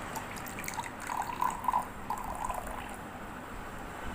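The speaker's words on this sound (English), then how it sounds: "So let's pour water and see clearly." Water poured into a glass with a coin resting at the bottom, giving a soft, steady liquid pouring and trickling sound at moderate level, a little louder midway and fading out, with no talking.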